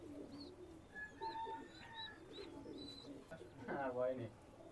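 A pair of Teddy pigeons, crested adults, coo softly after being let out, with several low rolling coos and a few faint higher calls over quiet background noise.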